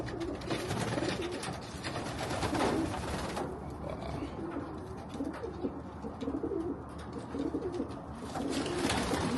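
Pigeons coo steadily inside a breeding loft, a dense, continuous murmur of many birds heard close and loud with no clear speech.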